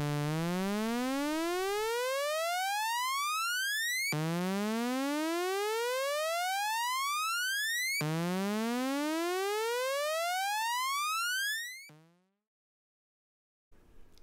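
Three rising synth sweeps, each a bright harmonic tone gliding upward for about four seconds, pass through a single-impulse Cascade effect set fully wet, ending in a short trailing tail and brief silence.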